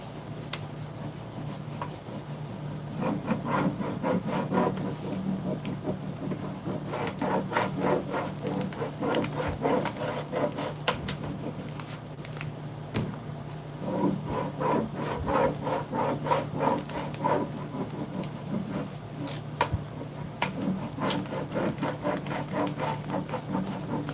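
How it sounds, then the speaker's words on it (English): Rubbing across a transfer to lift it so it starts peeling, heard as steady, close scratchy strokes that repeat in a quick rhythm for over twenty seconds, with no talking. "I'll kind of basically rub over the whole transfer first."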